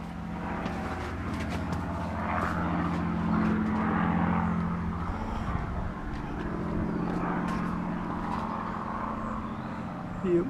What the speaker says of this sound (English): Pretty certain that was a Spitfire.